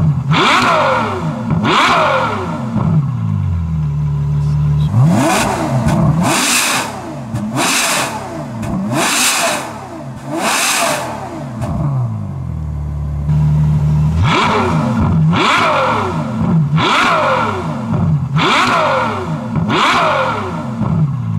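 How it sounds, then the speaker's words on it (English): A Ferrari F12 engine with its exhaust valves wide open revs repeatedly in loud, close blips, each rising sharply in pitch and falling away, in two bursts separated by a brief idle. "So the valves are on and wide open. And listen to the difference"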